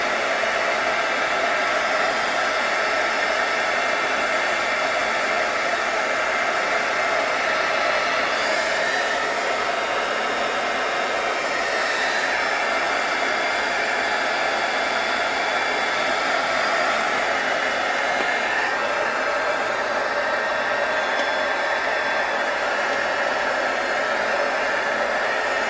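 A heat gun blows hot air onto craft material being shaped for a Valentine succulent, a steady loud whooshing hiss that runs unbroken for the whole stretch with no talking.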